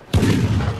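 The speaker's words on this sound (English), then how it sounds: "Steenie, how many cannons are firing the salute?" One heavy boom from a cannon firing a royal salute in London for a coronation, loud and sudden, with a long rumbling roll that does not fade before the end.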